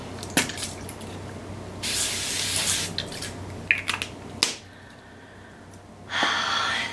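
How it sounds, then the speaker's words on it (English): A facial mist bottle is sprayed onto a face several times, each burst a short close hiss, with a longer spray early and another near the end, separated by quiet moments. "I'm actually gonna spray myself again."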